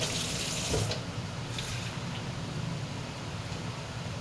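Water runs and splashes steadily into a pot for cooking rice, a continuous hissing gush with no voices.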